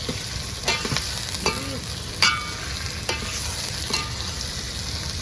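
Onions and prawns fry in a pan with a constant close hiss of sizzling oil, broken by occasional soft spatula scrapes and taps as they are stirred.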